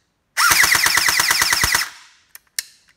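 An electric airsoft gun, its motor newly adjusted, fires a rapid full-auto burst of about fifteen sharp clacking shots, close and loud, followed by a couple of isolated single clicks.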